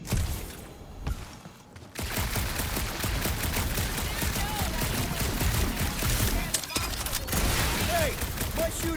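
Dense bursts of blaster and gunfire in a dark alien lair in Marvel's Guardians of the Galaxy, a steady loud barrage that runs almost without pause after a short lull, with voices chattering under it.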